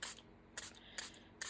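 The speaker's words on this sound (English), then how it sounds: "I think I'm going to spray them with water" A spray bottle mists water onto watercolor paints in four short, crisp hissing bursts at fairly even intervals, close and quiet, with no talking.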